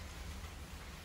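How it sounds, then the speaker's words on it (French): Steady, dense heavy rain hiss in Rio de Janeiro with a deep low rumble, constant and fairly faint throughout, no voices. "Il pleut de ouf."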